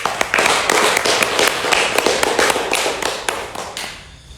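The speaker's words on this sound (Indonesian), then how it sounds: "Oke, tepuk tangan dulu ya untuk yang ngalah" Indoor audience at a talk event applauds loudly and steadily, dense overlapping hand claps with sharp individual smacks, fading off toward the end; no talking over it.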